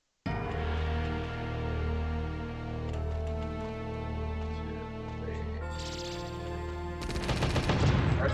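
Rapid gunfire from the PlayStation action RPG Brave Fencer Musashi rattles continuously over a sustained game music backdrop, ending in a denser burst of shots.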